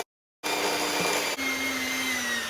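Electric stand mixer whirring steadily as it works the last of the flour into oatmeal cookie batter, a continuous close motor drone with a brief dip partway through, beginning after a moment of silence.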